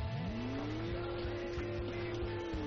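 Racing car engine in a highway race in the video game Road Trip Adventure, a steady sustained drone that climbs in pitch early then holds, loud and continuous with tire and road noise, no talking.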